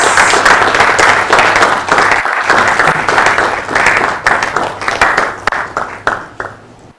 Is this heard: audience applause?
yes